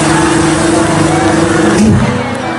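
A voice imitates a motorbike with a leaky open exhaust being revved, a loud, steady buzzing drone held close for about two seconds before trailing off.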